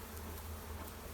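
Honey bees buzz steadily around an opened hive during spring preparation, a constant close drone with no voices.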